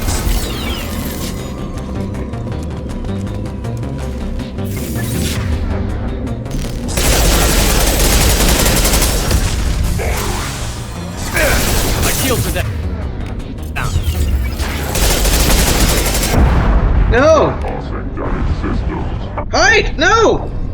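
Explosions and gunfire in the Mass Effect 2 video game, loud bursts and sustained rattling volleys through much of the stretch, with someone speaking and exclaiming over the combat.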